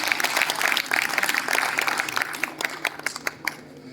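An audience at an awards ceremony and cultural program applauds, a busy patter of many hands that is fairly loud at first, then thins to scattered claps by the end.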